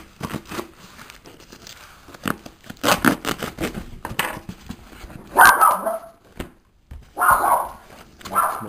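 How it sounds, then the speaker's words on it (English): A dog barks in a few loud bursts close by during a card-game booster box unboxing, mixed with cardboard and plastic crinkling, tearing and scraping of packaging. "That's my dog."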